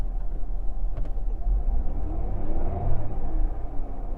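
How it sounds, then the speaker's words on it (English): A Porsche engine idles steadily at close range during a dealer auction walk-around, a low rumbling hum with a brief faint click early on. "Listen to the engine."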